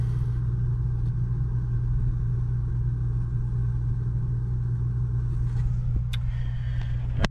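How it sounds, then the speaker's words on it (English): An exhaust fan set in a plywood battery box holding sealed lead-acid AGM batteries runs with a steady, loud low hum and rumble throughout, ending with a brief clunk. "that's an exhaust fan right there"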